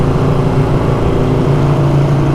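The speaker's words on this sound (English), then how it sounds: "And I also like the way my motorcycle sounds." A Harley-Davidson Iron 883 motorcycle engine runs close and loud with a steady, deep throb, holding an even pitch during a ride.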